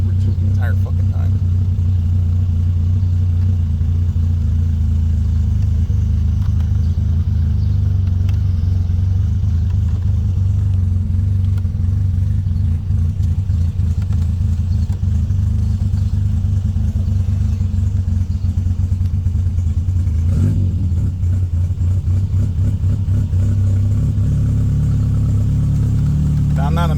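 A car engine runs steadily and loudly throughout after a battery swap and a loose wire fix, a continuous low mechanical drone with faint clatter, while people talk over it.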